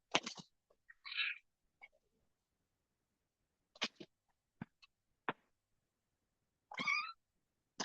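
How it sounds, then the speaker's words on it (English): A few sharp, breathy hisses and spits from a kitten, brief and scattered with silence between, plus a short meow-like squeak. "did you ever hear a kitten swear?"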